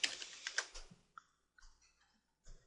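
Quick bursts of computer keyboard typing in the first second, then a few sparse, quiet key clicks and taps spaced apart, close and faint.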